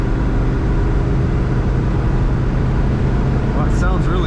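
A 1965 Chevrolet Chevelle Malibu SS convertible's engine drones steadily and loudly while driving, a dense continuous low rumble with road and wind noise and no pauses.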